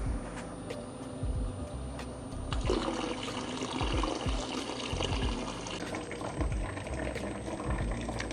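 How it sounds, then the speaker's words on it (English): Vinegar being poured into a protein skimmer, steady liquid gurgling and trickling close by with water movement and occasional clicks throughout. "this is a brand new thing of vinegar, and we're just gonna add some to the mix here"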